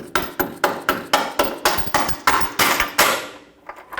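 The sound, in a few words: hammer tapping a bolt through the control arm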